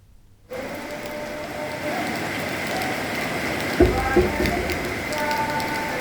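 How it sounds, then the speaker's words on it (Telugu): Heavy torrential rain pours down in Medak, Telangana, a dense steady hiss that starts abruptly and continues, with a few louder knocks partway through. "కుండపోత వాన పడుతుంది"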